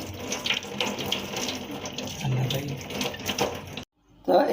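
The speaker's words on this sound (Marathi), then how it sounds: "याला आपल्याला पाण्यानं धुवून काढायचं आहे" A vegetable being washed under a running kitchen tap, steady splashing water close by that stops abruptly near the end and briefly resumes, with faint speech beneath.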